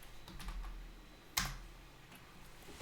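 A few faint keystrokes on a computer keyboard, soft quiet taps with one sharper click near the middle, alone in a quiet room.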